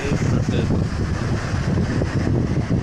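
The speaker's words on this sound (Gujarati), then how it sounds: "અતિશય પવન છે" Strong wind roars and buffets the microphone in a constant, loud, broadband rush with no pauses, on a bridge over the flooding Madhuvanti River during heavy rains.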